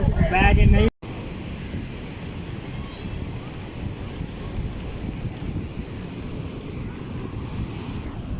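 Water rushes through the open gates of Qadrabad Barrage, a loud, steady roar mixed with gusting wind across the microphone. A brief voice is heard at the very start.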